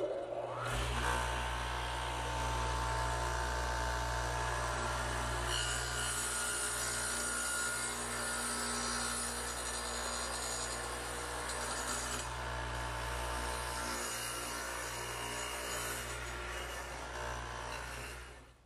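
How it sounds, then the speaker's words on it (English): A radial arm saw fitted with a dado head cuts across a vertical wooden piece, trimming about 5/16 inch per side. It gives a loud, steady, sustained grinding whine that holds for the whole stretch before cutting off at the end. "over on the radial arm saw, which again has the dado head in it"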